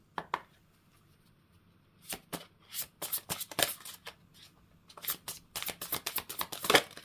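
Crisp riffling bursts of shuffled tarot cards, several quick rounds in close succession with brief pauses between, near and fairly loud.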